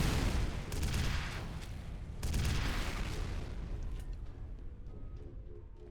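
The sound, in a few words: missile explosions in video game F.E.A.R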